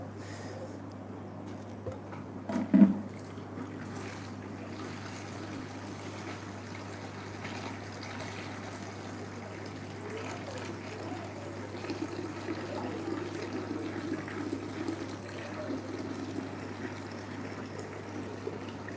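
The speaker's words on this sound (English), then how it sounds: "those tanks are filling up now" Water steadily filling several fish tanks in a home fish room, a soft continuous trickle and pump-like hum running alone with a low constant drone underneath and one brief bump early on.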